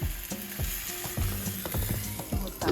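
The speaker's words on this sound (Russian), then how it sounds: "И под крышкой они будут жариться с обеих сторон." Chebureki stuffed with raw minced meat fry in oil in a lidded pan, giving a steady sizzle dotted with rapid, rhythmic crackles and pops.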